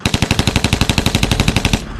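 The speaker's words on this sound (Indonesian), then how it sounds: "Terdengar suara tembakan" A gunfire sound effect fires a rapid machine-gun burst of around eighteen sharp, loud shots in a tight even rhythm, ending after under two seconds.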